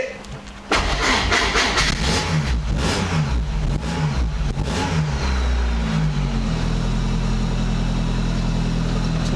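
A Rover Metro 160 VVC's engine cranks and fires, then revs up and down several times before settling to a steady idle, loud and close.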